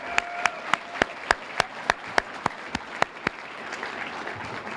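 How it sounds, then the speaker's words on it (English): An audience at an awards ceremony claps in a steady, evenly spaced rhythm of sharp beats that continues for several seconds, then fades into a softer murmur of applause. "let's give our stars, all of them, a big round of applause and cheer ourselves tonight"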